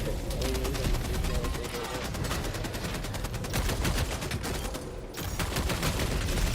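Rapid automatic gunfire from a weapon in the video game Helldivers 2 rattles on continuously until the magazine runs dry, with a brief gap near the end before shooting resumes, loud and close.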